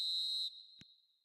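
A referee's whistle blows for half-time in a football video game, a single sustained shrill blast of about half a second that cuts off and leaves a faint ringing tone, followed by a short dull thud.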